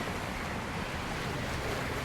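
Water washes and laps steadily around a LEGO boat floating low in the water in LEGO Fortnite, a continuous broadband surf-like wash with some wind over it and no talking.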